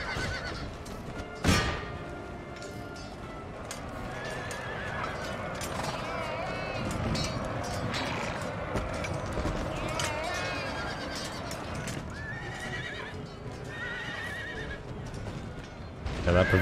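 Horses neigh and hooves clatter amid a busy battle soundscape in Empire: Total War, with people talking over it; a sharp whinny from provincial cavalry stands out early on.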